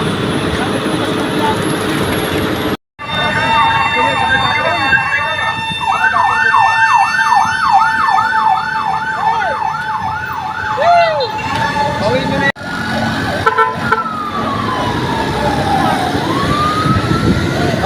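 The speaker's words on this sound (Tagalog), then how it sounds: "Kaya parating pa rin isang bumbero." A fire truck's wailing siren rises and falls in rapid cycles as it approaches on Legazpi Bridge in Pasig, loud over traffic rumble, ending with a brief horn-like blast.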